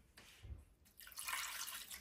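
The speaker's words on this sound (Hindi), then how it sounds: "इसके अंदर जाएगा पानी, ये देखें" Water is poured into a cooking pot holding spices and Kashmiri red chili powder, a soft splashing stream that begins about halfway through and runs steadily, close and moderately loud, with no talk.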